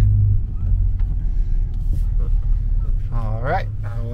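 Tow truck engine idling with a steady low rumble throughout, heard close, with voices talking over it near the end.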